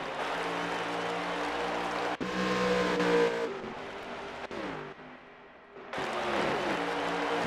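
Race cars roar around the Pocono track in a racing video game, a steady loud engine drone with shifting pitch as cars pass and accelerate, continuous with no talk.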